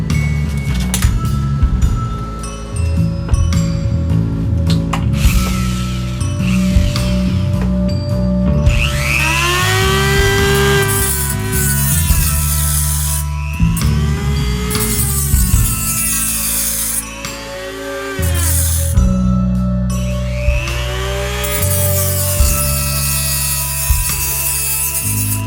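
A PVC piece for a laminated compound bow being cut with a small cut-off lever, giving a loud, continuous grinding and whining tool noise with rising and falling pitch sweeps, close up and with no talking.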